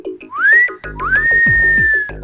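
A person whistles loudly and close by, two rising notes, the second held longer as a steady tone, with no talking.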